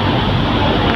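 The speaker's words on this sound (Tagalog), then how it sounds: "Ang lakas ng hangin." Strong wind gusts buffet the microphone outdoors in a dense, continuous roar that stays loud and close for the whole second.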